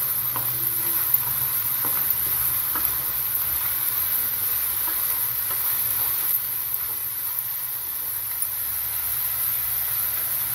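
Gobi (cauliflower) pieces deep-fry in hot oil in a home kitchen, kept only half-cooked and crunchy. A steady, close, dense sizzling hiss with scattered faint crackles and pops runs the whole time, with no talking.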